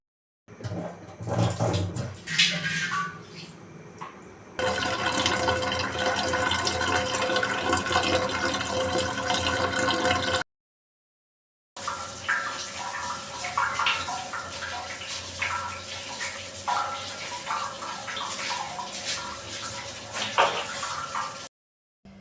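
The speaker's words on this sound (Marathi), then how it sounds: "पिण्याच्या पाण्याचा हंडा भरायला लावला" Tap water runs into a drinking-water pot in long, steady gushing stretches, broken by a brief silence, with hollow splashing and a rising, filling tone and faint clinks of handling, but no talk.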